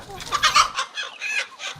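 Free-range chickens on a farm cluck and squawk loudly and close by in a quick series of calls, with no talk.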